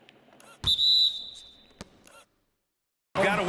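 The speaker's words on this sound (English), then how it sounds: "Got a whistle." A referee's whistle blows once at an NBA basketball game between the Lakers and Nuggets, a sharp sustained tone over arena noise, followed by a brief quiet gap and crowd sound.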